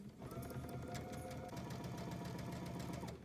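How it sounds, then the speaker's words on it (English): A Dream Machine 2 sewing machine stitches a seam across a quilt square of half-square triangles, with a rapid, steady mechanical whir and fast needle chatter that is loud, close and continuous, with no talk over it. "and then sew on the other side."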